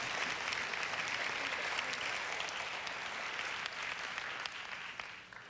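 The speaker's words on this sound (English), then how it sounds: "let's give all of our junior Miss contestants another big round of applause" Audience applause at a 2017 Strassenfest pageant honoring junior Miss contestants, a steady dense wash of clapping that holds strong for about five seconds before tapering slightly at the end.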